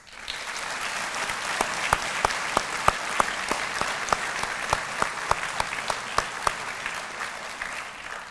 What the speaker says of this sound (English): Please join me in a round of applause for this outstanding class and all those who supported them along the way.